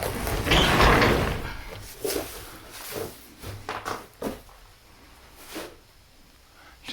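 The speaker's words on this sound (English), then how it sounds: "Sliding door here. See if we could open this." Sliding door on an old train depot storage unit in Bergen, NY being forced open, a loud scraping rumble followed by several knocks and rattles, then quieter creaks and thuds.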